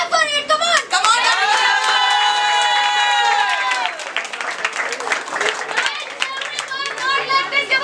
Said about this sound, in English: So clap for it.